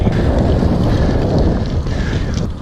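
Strong wind buffets the microphone during a triathlon bike ride, a loud, continuous low rumbling roar with gusty fluctuations and no voices.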